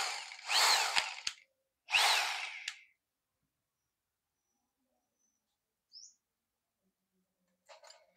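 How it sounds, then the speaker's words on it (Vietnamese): A used Japanese-market 100V power drill runs in plain drill mode with no hammer action, giving two short whirring bursts of about a second each. Silence follows, then a faint bird chirp. "Này là chế độ khoan không có búa"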